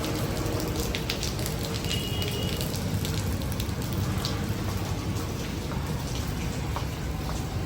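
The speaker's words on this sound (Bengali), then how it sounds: "ঝিরিঝিরি বৃষ্টি পড়তেছে" Light drizzle falls near a resort pool in Cox's Bazar, an even, soft patter of raindrops that continues without pause and with no voices.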